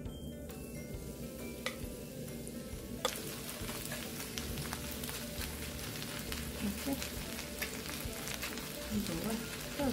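Chive pancake batter fries in a generous pool of oil, giving a soft, continuous sizzle with light crackles and ticks, close and fairly quiet throughout.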